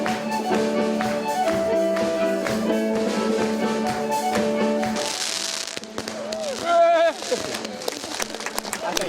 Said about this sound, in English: The fireworks shot here is great because it brings the story to a close.